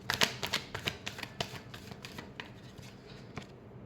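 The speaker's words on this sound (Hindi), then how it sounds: "last shuffle," Tarot cards are shuffled by hand in quick, crisp riffling bursts that are loudest at the start and taper into softer flicks, close and quiet with no talking.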